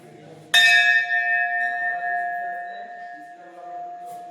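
A metal bell at a village temple near Raigad fort is struck once, ringing out loud and clear, then its tone lingers and slowly fades, with a faint murmur underneath.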